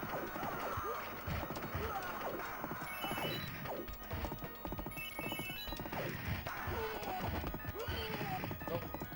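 Busy arcade combat from a Capcom belt-scroller plays on: crashes, thwacks and horse hooves and whinnies mix with bright electronic effects in a dense, steady wash.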